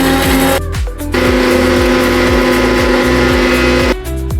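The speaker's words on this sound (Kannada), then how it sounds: "ಬನ್ನಿ ಮಿಕ್ಸಿಗೆ ಹಾಕೋಣ." A mixer grinder powders pickle spices in a jar, its loud, steady motor whine running continuously with two brief pauses where the pitch drops and restarts.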